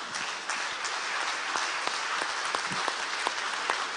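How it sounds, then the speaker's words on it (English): Audience applause for a conference panel on Türkiye and the Black Sea, a steady dense patter of many hands clapping from a room-sized crowd with no talk over it. "ask for a hearty round of applause for everyone on this panel"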